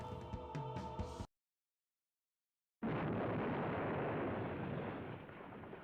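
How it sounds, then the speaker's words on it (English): In the 1996 PlayStation game Misfortune, a tonal game sound cuts to silence before a loud, sustained roaring explosion rumbles on for several seconds. "the explosion shook the school"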